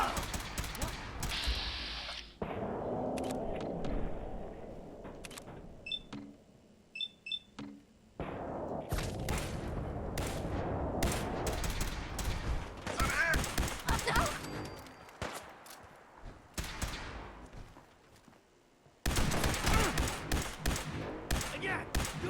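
Bursts of gunfire in a Fallout 4 battle, rapid volleys and single shots broken by short pauses, with game beeps and faint voices mixed in among the shooting.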